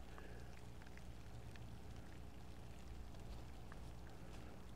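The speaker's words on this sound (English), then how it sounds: "It's raining." Steady rain falls over an outdoor cemetery, a soft, even patter with scattered drops, quiet and continuous and heard alone without talk.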